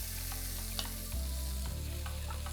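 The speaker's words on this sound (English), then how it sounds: "Once you've got all the cauliflower browned off on both sides, we're just going to try and fit them snug into the pan." Cauliflower steaks frying and browning in a pan, a soft close sizzle under a steady low hum, with a few light clicks as pieces shift, faint and continuous.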